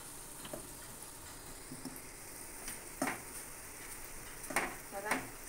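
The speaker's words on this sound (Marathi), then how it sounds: "अशी लावायची आहेत कापं तव्यावर." Batter-coated elephant foot yam slices frying in oil on a flat griddle, giving a soft steady sizzle broken by several crisp scraping and tapping clicks as pieces are placed.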